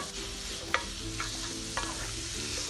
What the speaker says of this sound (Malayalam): ഈ ഒരു സവാള നന്നായിട്ടൊന്ന് വഴറ്റിയെടുക്കുക.